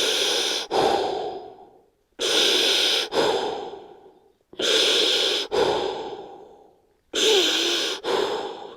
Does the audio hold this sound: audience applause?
no